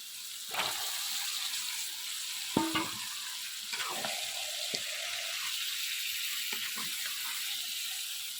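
Meat goes into a pan of fried spice masala, giving a soft, steady sizzle with scattered scrapes and clinks of stirring, fairly faint and close, with no voices.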